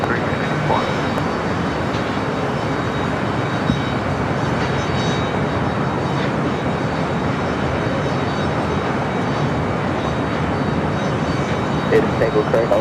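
An airliner roars steadily on takeoff from runway 25 right at LAX, a loud broad engine rumble held throughout, with radio voices talking over it.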